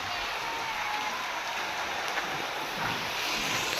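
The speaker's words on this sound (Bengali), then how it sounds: "দেখো পড়তেছে বৃষ্টির সাথে সাথে কিন্তু আইসও পড়তেছে।" Heavy rain mixed with falling ice pellets hisses steadily outdoors, a dense, even wash of noise with no break and no voices.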